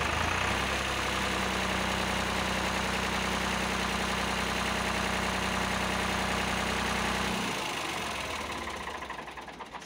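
A tractor engine idles with a steady low chugging drone, close and loud, then cuts off near the end and fades away.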